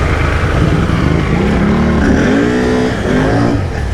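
Pickup truck on mud tires revving hard and accelerating in two-wheel drive, a loud, close engine roar climbing in pitch over four seconds with no talking.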